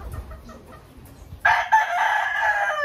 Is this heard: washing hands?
no